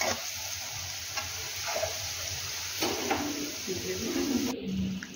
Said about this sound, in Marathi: इथे बटाटे छान असे परतले आहे